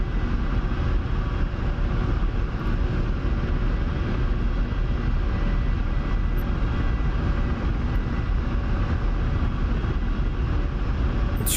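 Ka-50 Black Shark coaxial helicopter in the DCS flight simulator, a loud, steady broadband rotor and engine roar holding constant throughout with no voices.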